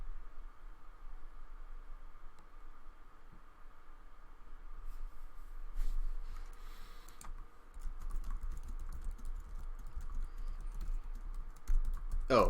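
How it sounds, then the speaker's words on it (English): Continuous close clatter of typing on a computer keyboard during an online card game match, rapid uneven keystrokes running throughout with faint background hiss and no talking. "I'm just sitting here typing with chat."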